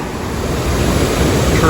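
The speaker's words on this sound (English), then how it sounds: "Got some nice cascades across the river here." River cascades at Ohiopyle Falls in Pennsylvania, a steady broadband rush of water that swells slightly toward the end, with some wind buffeting the microphone and no voices.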